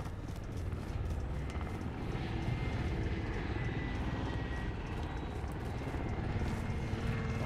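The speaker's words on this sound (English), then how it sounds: "What the fuck are these supply choppers for?" Supply helicopter in the Warzone video game flying overhead, a steady droning rotor and engine roar that holds loud and unbroken throughout, with no speech.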